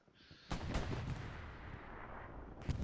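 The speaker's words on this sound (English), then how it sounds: "Artillery, I think, coming down for both sides there" Artillery and gunfire in Hell Let Loose on Utah Beach: a faint, distant barrage of sharp cracks and booms over a continuous rumbling battlefield, several impacts spread across the moment with no talk.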